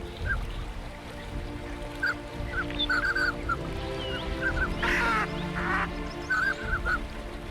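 Mandarin ducks in a Siberian boreal forest habitat give short, repeated honking calls in small bursts over a dense background hum, with a few sharper squawks partway through.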